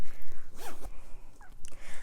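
A small zipper pull on a knitting project bag gives a couple of quick, close rasping zips, with soft rustling handling noise in between and no talking.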